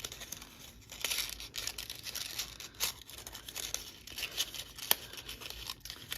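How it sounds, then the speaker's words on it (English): Thin book-page paper being gently twisted and tied into a knot, giving soft, close crinkles and brief rustling crackles in irregular bursts against a quiet room. "You're literally gonna tie a knot in your paper."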